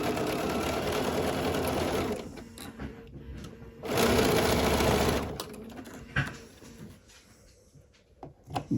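A sewing machine stitches a quilt block seam in two loud, steady runs of rapid mechanical whirring separated by a pause, followed by quieter handling clicks and fabric rustles.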